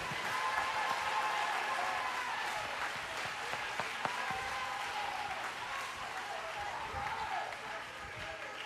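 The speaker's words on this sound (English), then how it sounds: "clap your hands unto God right now" Church congregation clapping their hands together, a dense, sustained wash of applause that fills the room throughout, with voices mixed underneath.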